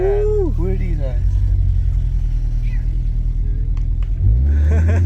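Audi TTS fitted with a Cobra catback exhaust, rumbling with a deep steady drone, loud and close, with a rise in revs near the end while people talk over it.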